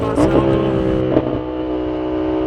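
A 2025 Yamaha MT-07 motorcycle engine accelerates under the rider, a loud close throttle surge that rises, settles and revs again against steady wind rush.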